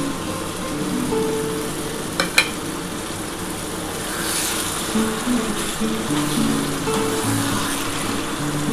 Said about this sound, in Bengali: ডিমগুলোর সাথে ভালো করে কষাতে হবে, তাহলে ডিমের ভেতরে মশলাটা ঢুকবে